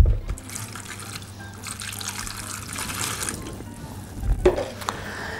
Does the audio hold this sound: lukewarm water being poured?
yes